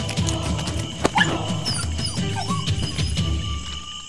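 A cartoon dog barks and yips a few times amid busy animated-scene background noise, with a sharp bark near the middle over a low rumble.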